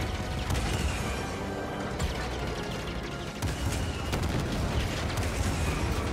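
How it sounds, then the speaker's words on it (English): Dense, continuous cannon and machine-gun fire in the video game Star Wars Jedi: Fallen Order roars without pause, loud and close, heavy cannon blasts with mechanical clatter layered under the barrage. "We fire both cannons and machine guns to probably try and take this aircraft down"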